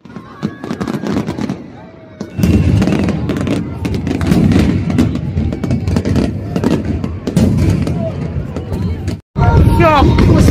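Fireworks bursting at a fireworks festival in Hungary, with repeated loud crackling explosions over crowd noise and people talking nearby, a brief drop near the end before the bangs resume.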